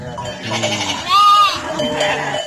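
A lamb gives a short, wavering bleat in the middle, with murmured talking before and after it.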